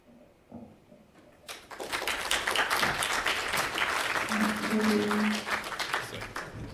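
An audience applauds after an academic talk, with steady broadband clapping rising after a brief quiet start and sustaining at moderate loudness, recorded from a little distance.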